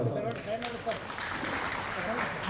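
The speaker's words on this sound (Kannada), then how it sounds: "ಜೋರಾದ ಚಪ್ಪಾಳೆ" Applause rises from an audience at a Karnataka Rajyotsava celebration as dignitaries finish a ceremonial puja, a moderate clatter of hands mixed with crowd voices and chatter rather than standing alone.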